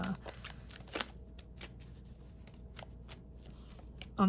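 Tarot cards are shuffled and drawn by hand up close, giving soft, quiet riffling and papery flicks with occasional sharper card snaps in a calm room.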